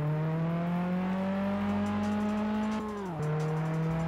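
A car in Test Drive Unlimited on PS2 drives with a loud, steady engine drone whose pitch climbs slowly, then dips sharply around a gear change before settling again.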